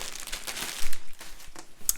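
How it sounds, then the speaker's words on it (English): A plastic bag dust cover from a diamond art kit crinkles and rustles in irregular close bursts as it is handled, with no talk. "it's a plastic bag, but it's also kind of a dust cover"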